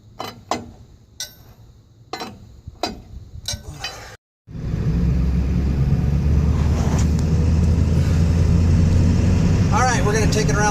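A 2000 Ford F250 Power Stroke Super Duty truck starts up after some ticking and clicking, then its diesel engine settles into a steady, loud, low rumble while driving, with a person talking over it.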